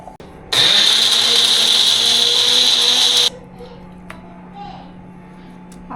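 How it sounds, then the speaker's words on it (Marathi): Mixer grinder whirring loudly for about three seconds as it grinds roasted masala with coriander and coconut, starting abruptly and cutting off, followed by a quieter room hum with faint clicks. "ते बारीक झालं की मग हे बाकीचं सगळं बारीक करून घ्यायचं."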